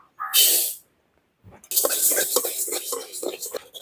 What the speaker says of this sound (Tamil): சட்டி அடுமா வைக்கிறேன் ஒரு கப்பு கொள்ளு வறுத்து எடுத்துக்கலாம்